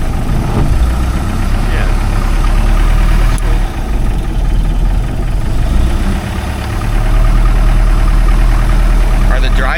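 A one-of-a-kind classic speed boat engine idles with a steady, deep rumble that stays loud throughout, while people talk briefly over it.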